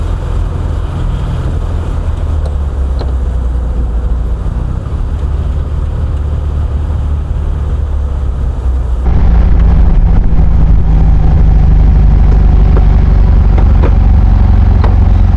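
A 1968 Volkswagen Karmann Ghia running with an exhaust that sounds odd: a loud, continuous low rumble heard from inside the car, rising in level and shifting in tone partway through, with no talking.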